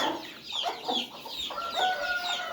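Hens and a rooster cluck in a farmyard during morning chores, a steady run of close, overlapping clucks and short calls with no talking.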